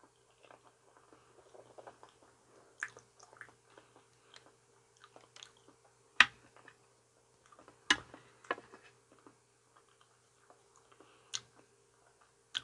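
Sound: chewing banana

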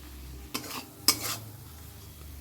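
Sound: stir-frying rui fish with cumin, coriander and chilli powder

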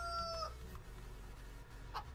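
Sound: chickens in a farming video game

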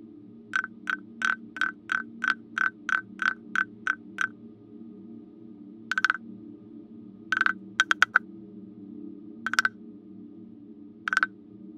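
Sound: singing frog, Chinese percussion ratcheting instrument

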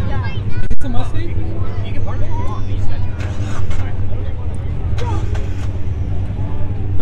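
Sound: Mazda Miata car being moved at a car meet

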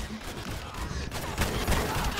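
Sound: blaster cannon fire in video game Star Wars Battlefront

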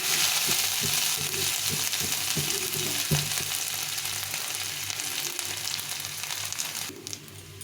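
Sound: dried chilli, cumin and panch phoron sizzling in hot oil

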